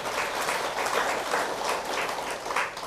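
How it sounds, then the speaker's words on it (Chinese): An audience claps steadily and warmly for a few seconds, a dense, even patter of many hands filling a lecture hall. "赞叹掌声一下"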